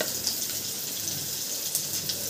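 Onion fries in a pan until it turns lightly reddish, making a steady, dense sizzle that stays close and even throughout, with no voices.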